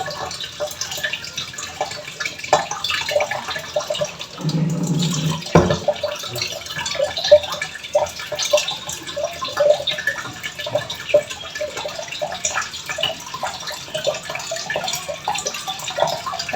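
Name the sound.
weak flow of tap water filling containers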